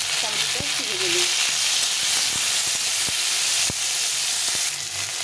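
Tomato frying in a pan with browned onions, a dense steady sizzle and hiss with periodic soft knocks of a spatula, a brief voice sound early on.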